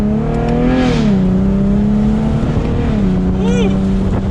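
A 2023 Chevrolet Camaro Convertible 2LT RS exhaust drones loudly and steadily as the car accelerates, its pitch dipping and rising slightly under a continuous, close engine tone.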